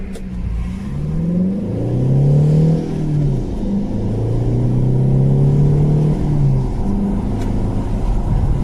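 Car on Uniroyal Rainsport 5 tyres accelerates hard on a test drive, the engine climbing through revs, briefly easing at a gear change, then pulling strongly again, loud and close throughout.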